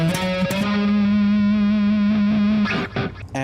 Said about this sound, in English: Then we would play the major third.